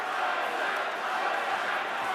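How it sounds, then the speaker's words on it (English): Roaring crowd at a mixed martial arts fight, a dense, steady wall of cheering and shouting that holds loud and unbroken throughout. "Crowd is going absolutely wild."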